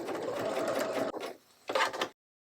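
A sewing machine stitches a batik quilt block in a rapid whirring burst, stops briefly, then runs again for a short spurt, close and clear with no voices.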